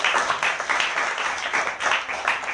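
A church congregation claps steadily in dense, continuous applause, many hands blending into a loud, even wash of sound with no voices standing out.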